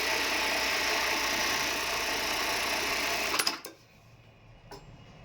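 Siruba BT430Q elastic joining sewing machine runs steadily with a loud, fast, even whir for about three seconds, then stops abruptly with a couple of clicks, leaving quiet room tone.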